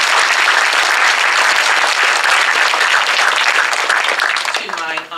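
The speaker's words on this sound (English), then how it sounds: "let's give all of our sponsors a round of applause as well." Sustained audience applause, dense and steady clapping from many hands, fading near the end as a voice briefly begins.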